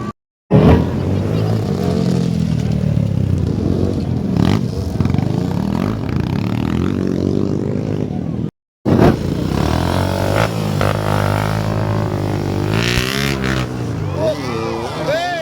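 Motocross motorcycles race around a dirt track, their engines buzzing and revving loud and close almost throughout, with a brief cut near the middle and voices talking over the engine noise.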